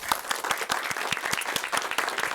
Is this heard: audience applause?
yes